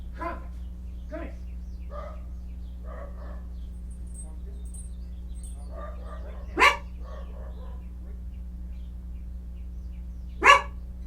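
A yellow dog barks in a quiet room, a series of short, moderately close barks and yips with gaps between them over a steady low hum, plus two sharper, louder barks.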